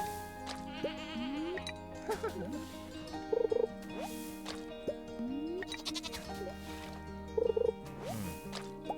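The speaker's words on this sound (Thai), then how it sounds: "แพะพยายามจะออกมาเนาะร้ายจริงๆกินหญ้าไปกินหญ้าไป" Goats bleat repeatedly in a game scene by a rainbow trout pond, wavering calls repeating over tonal game music, loud and close.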